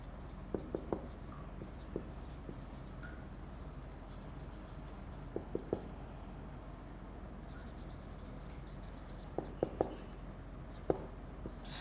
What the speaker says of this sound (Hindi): मैं यहाँ बोर्ड पे लिख रहा हूँ